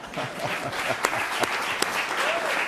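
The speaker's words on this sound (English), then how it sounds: "I'm going to give you some applause for that." Audience applause at a Hispanic Chamber of Commerce event, steady clapping from a crowd with a few sharp individual claps and some voices underneath, moderate and sustained.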